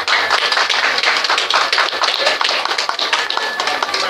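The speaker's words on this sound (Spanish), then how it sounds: "quiero pedirles un fortísimo aplauso" An audience applauds at a rally awards ceremony in Arequipa, producing dense, sustained clapping from many hands with no pauses.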